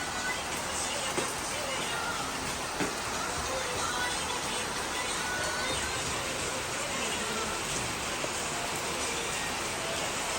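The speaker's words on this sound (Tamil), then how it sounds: "வெளியில நல்ல மழை" Steady rain falling outdoors, a continuous even hiss with no breaks, moderately loud and close throughout.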